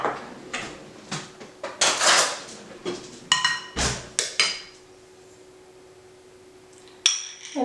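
A spoon spreads hot mashed potatoes around a bowl, making a series of short scraping and clinking strokes, then a pause, then one more scrape.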